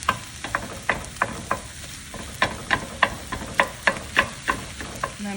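A spoon scrapes and stirs through a pound of lean-medium ground beef in a pan, sounding as a steady run of sharp, rhythmic strokes over a soft sizzle, close by with no talking.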